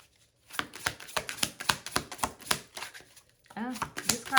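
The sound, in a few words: shuffling tarot cards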